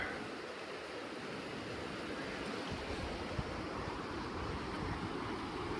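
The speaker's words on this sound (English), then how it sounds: "Sounds of the Pecos River surround me." The Pecos River rushes steadily in a canyon, a continuous close broadband roar of flowing water with no voices.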